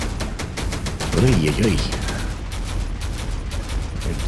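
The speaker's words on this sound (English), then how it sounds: "You can hear the refineries running away. And the cacophony of the freaking guns." Dense, continuous gunfire from many guns in a video game, with refinery machinery running beneath it; the shooting stays steady and fairly loud throughout, with a stretch of talking in the middle.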